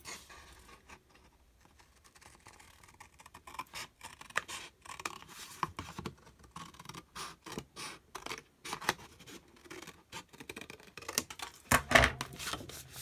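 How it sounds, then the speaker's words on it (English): Sharp scissors snip through sticker paper in quick, close, crisp cuts, arriving as irregular bursts of individual snips with short pauses between them. "I've got a sharper pair of scissors."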